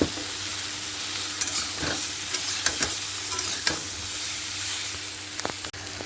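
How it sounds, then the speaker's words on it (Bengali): Vegetables seasoned with salt and turmeric sizzle steadily in a pan, close and loud, with occasional scraping stirs of a utensil and no talking. "এই যে এই সবজিগুলো লবণ হলুদ দিয়ে একটু ভেজে নিয়েছি"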